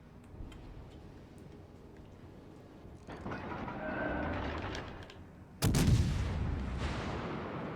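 The rear guns of a French battleship fire in the naval game WoWs Legends, with a rumbling salvo swelling around three seconds and then one sharp, loud blast that decays slowly, over faint background ticking and no voices.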